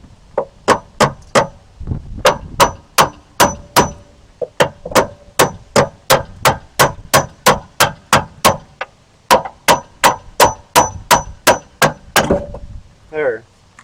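A carpenter's hammer whacks the rear shock of a 2002 Nissan Altima in a steady run of about thirty loud, close, sharp metallic blows with a brief pause midway.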